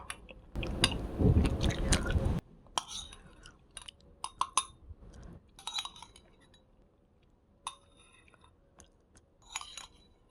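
Close, soft chewing of instant packaged porridge with chewy grains, a few scattered wet bites and clinks, then a loud rustling burst near the start; no talk.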